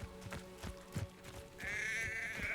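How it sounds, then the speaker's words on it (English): A sheep bleats in the video game Hogwarts Legacy, a wavering nasal cry rising out of soft footsteps and game ambience and holding steady to the end. "It's a sheep."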